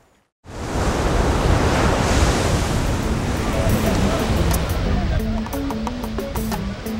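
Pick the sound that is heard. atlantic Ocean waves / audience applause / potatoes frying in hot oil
atlantic Ocean waves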